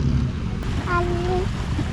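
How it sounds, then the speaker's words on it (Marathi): A ferry carrying bikes pulls up to a jetty on a river crossing near Bhayandar. A steady rumble of engine and water mixes with wind buffeting, and a faint tonal whine rises briefly in the middle. "तर आता ही बघा बोट आली"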